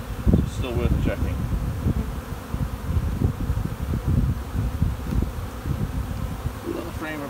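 Honeybees hum steadily and close around an open hive while frames are inspected, with rustling and handling noises over the dense buzzing.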